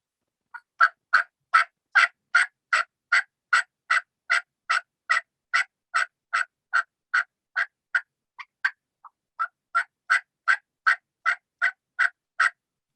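Long run of about thirty evenly spaced, sharp turkey yelps from a hand call, imitating a fall assembly yelp; one brief pause and a couple of softer notes near the end, loud and close with no talk.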